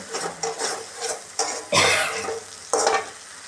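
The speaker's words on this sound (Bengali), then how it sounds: "এদিকে এখন দিয়ে দিব আমি টমেটো পিস একসাথে কষিয়ে নেব" Tomato pieces sautéing with fish curry masala for a Bengali fish dish, a steady sizzle broken by loud bursts of stirring and scraping in the pan, close and clear, with no talking.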